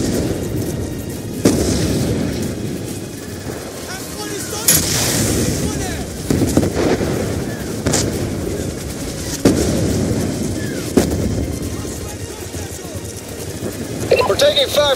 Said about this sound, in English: We're taking fire from the gunships right above the base.